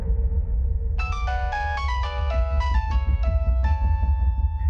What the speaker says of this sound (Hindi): ये बार बार किसका फोन आ रहा है बेटा?